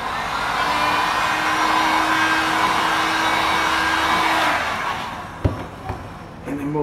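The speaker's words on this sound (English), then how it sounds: "What I'll do is I'll put a little bit more heat on it so it dries." A heat gun blows hot air onto fresh car touch-up paint, a steady close whooshing hum that runs for several seconds before shutting off, followed by a few light knocks and handling sounds.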